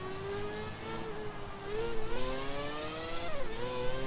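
A glitched 700 hp four-rotor rotary engine in a Nissan Silvia drift build in Forza Horizon 3 revs with a steady, buzzy engine note. The pitch dips and climbs in short surges, loud and continuous.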